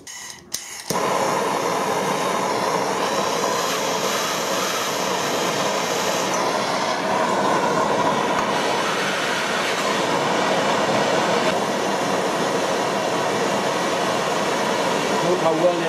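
A propane torch heats a stud on a tractor during a thread repair, giving a steady loud roaring hiss that holds without break after a brief start.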